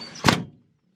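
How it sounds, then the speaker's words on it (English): A door on a vintage car with a very thin door swings shut with a single solid thunk, preceded by a brief rustle and followed by quiet. "how the door closes"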